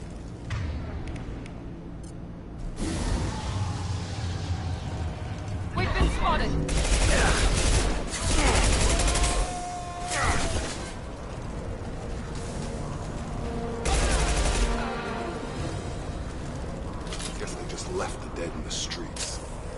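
A Mass Effect 2 firefight with Blue Suns and Fortune mercenaries shooting, heard as bursts of rapid gunfire that swell and fade in several loud waves. Voices talk between the volleys.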